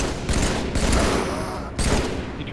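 Rapid bursts of loud video game gunfire crackle through a multiplayer match, dense automatic fire with a brief lull before another volley.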